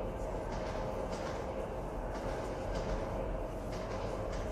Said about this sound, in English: It's a very long ghost train.